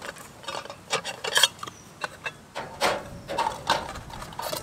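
Metal pots, pans and a water boiler are lifted and set down inside a small outdoor chuckbox, with a series of irregular clanks and scrapes, fairly quiet and close.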